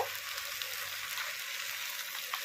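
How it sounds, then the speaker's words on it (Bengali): Jaggery being stirred into mango pickle frying in a pan, a soft, steady sizzle with faint stirring close by, no talking. "এরপরে গুড়টা দিয়ে আবারও নাড়াচাড়া করে নেব।"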